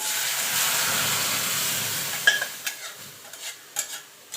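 Matar dal poured into a hot pan gives a loud burst of sizzle and hiss that gradually fades, followed by several sharp clinks and scrapes of stirring against the pan.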